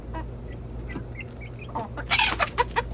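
Chicken clucking close by, a few soft clucks followed by a sharper burst of louder calls, with faint background hum.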